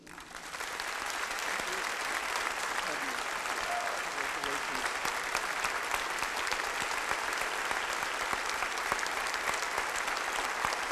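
Sustained applause from a large audience in an arena fieldhouse, welcoming the 2017 Sorin Award recipient at an award ceremony; steady, dense clapping that swells in the first second and holds evenly throughout.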